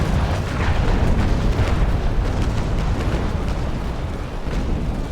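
Continuous heavy booming roar from a broadside of ship cannons firing chain shot in the naval sailing game Naval Action, loud and sustained with dense rumbling blasts filling the whole stretch.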